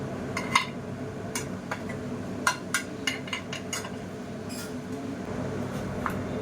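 A cooked green-pea breakfast dish is served from the pan onto a plate, with scattered light clinks and scrapes of a utensil against dishware over a steady low kitchen hum.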